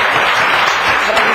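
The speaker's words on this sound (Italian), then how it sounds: "Rifacciamo un applauso. A tutti." Loud, dense audience applause for performers at a music show, a continuous wash of many hands clapping close by with no pauses.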